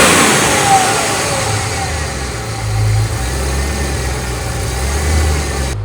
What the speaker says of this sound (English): I'll start it up so you can have a listen.